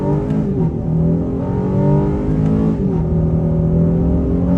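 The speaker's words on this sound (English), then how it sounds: "try one more first, second, to maybe third gear acceleration run" A 2023 Honda Ridgeline accelerates hard from first gear, its engine note rising steadily, dipping at an upshift and climbing again, loud and close from inside the cabin.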